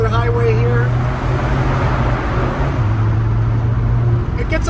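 A 2025 Mazda Miata Club ND3 with 180 horsepower accelerates while merging onto a highway, its engine drone steady under heavy road and wind noise.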